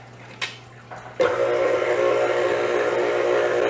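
An electric mixer blends the dry ingredients for gluten-free cinnamon rolls. After a couple of soft clicks, it starts up with a sudden jolt and settles into a steady, loud, whining whir that lasts to the end.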